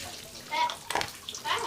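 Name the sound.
water running while rinsing in the shower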